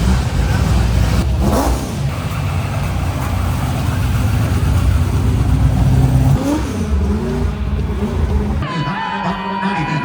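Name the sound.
NASCAR engine car revving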